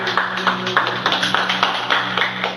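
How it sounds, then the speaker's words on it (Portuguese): Congregation at a church worship service clapping in a rhythmic, even beat, about four claps per second, close and clear over a low sustained hum. "E as palmas bem alegres para o Rei da Glória"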